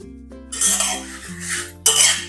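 A metal spoon scrapes and clanks against a pan while poha is stirred with oil and turmeric for chivda, in several distinct bursts of metallic scraping and clatter separated by short pauses, close and fairly loud.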